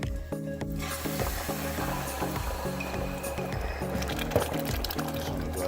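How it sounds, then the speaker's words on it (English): Jerk wings sizzling in a pan with Hennessy just added, a steady close bubbling simmer under intermittent stirring scrapes and faint liquid sounds, without speech. "Mix it in and let that simmer for about a minute, not too long."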